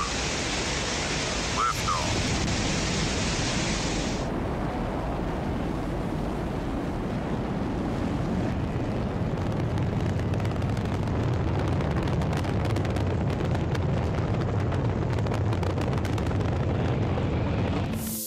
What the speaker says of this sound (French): La fusée, c'était déjà incroyable, mais la faire décoller, c'était du génie.